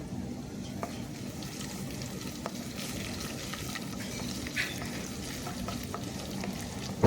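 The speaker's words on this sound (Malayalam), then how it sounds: "സ്പൈസസ് ആയ ബേ ലീഫ് കറുവപ്പട്ട ഏലക്ക ഇതെല്ലാം കൂടി നമുക്ക് ഇട്ട് കൊടുക്കാവേ" Whole spices, bay leaf, cinnamon and cardamom, fry in hot oil with a steady, moderate sizzle and occasional scraping stirs, ending in a brief louder clatter, with no one speaking.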